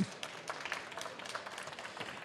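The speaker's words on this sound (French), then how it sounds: "Regardez, tout le monde l'applaudit, c'est incroyable." A studio audience at a culinary event applauds a guest vegetable grower arriving on stage, brief, fairly faint scattered clapping heard from a distance.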